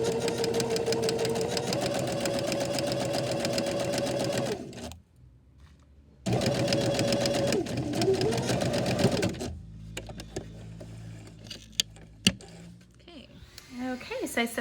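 A sewing machine stitching pintucks runs in a fast, close mechanical rattle, stops briefly, then runs again before giving way to quieter clicks and handling noises, with a voice speaking toward the end.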